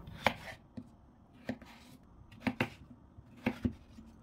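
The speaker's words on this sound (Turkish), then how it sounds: "Şimdi patateslerini de aynı şekilde iri iri doğrayalım." Medium potatoes are cut into large chunks with a knife, and the crisp board strikes come roughly once a second, often as quick doubled hits, close and clear with no talking.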